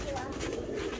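Pigeons cooing softly in a loft, a brief low burble of bird calls close by, mixed with someone speaking over them.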